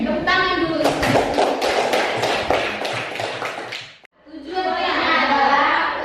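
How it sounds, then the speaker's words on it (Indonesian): A group claps hands in quick scattered bursts at a teachers' informatics gathering, with a voice and chatter mixed in, a brief gap, then more voices and movement. "Jadi itu tepuk tangan dulu."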